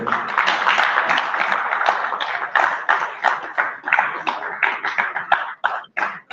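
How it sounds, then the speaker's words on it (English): A congress audience in Lagos breaks into a round of applause, dense clapping close and steady for several seconds, then thinning into scattered separate claps toward the end. "a round of applause for them."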